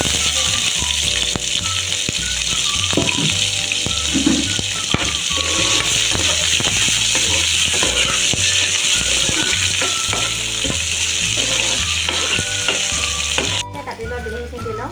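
Chopped onion frying in hot oil for a jackfruit curry, a loud steady sizzle throughout with occasional stirring clinks, close and continuous until it drops slightly near the end.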